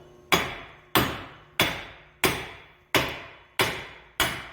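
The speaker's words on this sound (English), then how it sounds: "Now the next thing is try to hit this axle" A hammer strikes the axle to pop it out of the wheel hub on a 2000-2009 Chevy Impala, seven loud metallic blows at an even rhythm, each ringing and decaying before the next.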